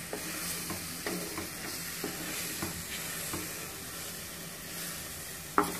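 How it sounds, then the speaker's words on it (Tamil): Banana halwa mixture sautéing in a pan over medium heat, a soft low sizzle with regular scraping stir strokes and a sharper knock of the utensil near the end. "நம்ம மிதமான சூட்டில் இதை வதக்க ஆரம்பிப்போம்."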